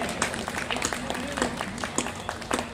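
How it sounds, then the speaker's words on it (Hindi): Audience at a comic poetry gathering breaking into moderate, scattered clapping, a brief patter of hands heard from the hall with a voice speaking over it. "तालियां कम है थोड़ी।"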